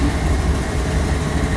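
Steady low rumble of a mixed freight manifest train rolling past nearby at night, continuous and heavy with no pauses or voices.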